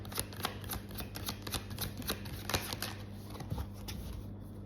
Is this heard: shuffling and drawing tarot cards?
yes